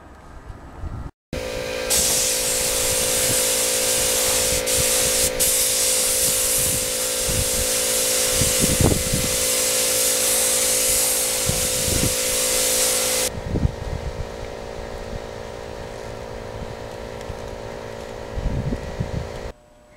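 A spray gun lays coats of yellow paint on a motorcycle restoration part, giving a loud steady airy hiss over a constant compressor hum for about twelve seconds. The hiss then stops and the hum continues alone.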